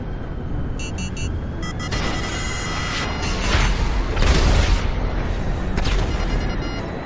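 Hard crash landing in GTA Online: rumbling impacts and booming crunches swell in the middle, with mechanical clanks and high tones scattered through; no talk.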